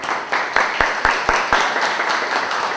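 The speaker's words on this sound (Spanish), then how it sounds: "Por favor, unos aplausos para el doctor para comenzar la clase." A few audience members at a university law lecture clap, sparse and uneven with distinct individual claps, fairly close and moderately loud.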